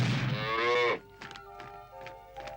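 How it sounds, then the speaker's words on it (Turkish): A cartoon cow moos once, loud and close, a long drawn-out low call lasting about a second, followed by faint tapping and clinking sounds in a quiet animated scene. "Ah, bir inek mi?"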